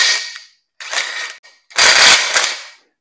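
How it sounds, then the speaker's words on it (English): Metal bolts run up and down cleaned threads, giving bursts of close ratcheting, clicking mechanical sound in three short runs separated by silence. "I'm going to just run these bolts up and down a few times."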